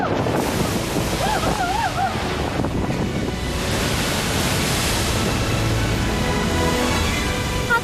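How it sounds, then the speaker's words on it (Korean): Powerful ocean surf forcing up through a narrow rock blowhole on the rugged coast of Western Australia's outback, a continuous loud roaring wash of water and wind with no pause across the whole stretch. "바위 구멍틈으로 파도가 물처럼 이렇게 솟구쳐요."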